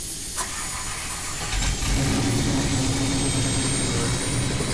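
In a helicopter simulator video game, a helicopter engine starts up with a rising whine and roar that grows louder and steadier and becomes a continuous engine drone, with no talking.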